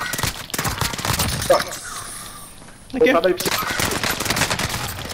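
Rapid bursts of automatic gunfire in Call of Duty: Modern Warfare rattle loudly, pausing briefly before resuming, with a voice speaking briefly amid the shooting.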